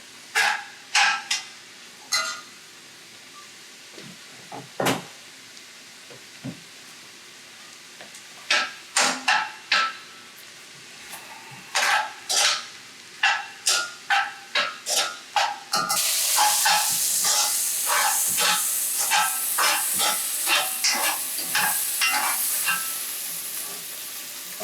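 Onions for a Louisiana Cajun jambalaya sizzle in a pot, browning, while a spoon scrapes and stirs in sharp repeated clacks; the frying hiss grows louder and fuller in the second half.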